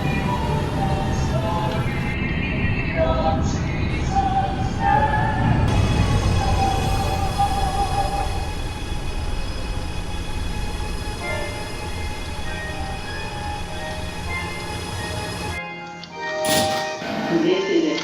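An R211T subway train on the G line in the OpenBVE train simulator, running with a continuous rumble and whine of motors and wheels, tonal hum shifting as it moves, a brief horn-like burst near the end, with automated announcements spoken over it.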